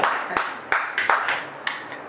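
A few people clap in scattered, uneven bursts for a contestant in a biscuit-eating food challenge. Six or seven sharp, close claps come with short gaps between them, and there is no talk.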